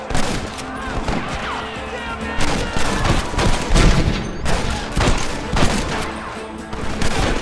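Rapid, loud gunfire in Red Dead Redemption, overlapping shots and volleys cracking close by in a sustained fusillade, with occasional voices mixed in.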